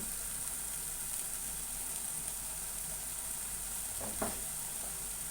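Tomatoes fry in a pan for an eggplant and chana dal curry, giving a steady, even sizzle throughout with a brief stirring scrape toward the end.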